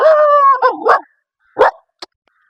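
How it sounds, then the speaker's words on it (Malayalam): A single dog charging toward the recordist gives a drawn-out, howling yelp and then sharp, close barks, loud and alone with no talk. "ഒരു പട്ടി നമ്മുടെ നേരെ ചാടി വന്നു"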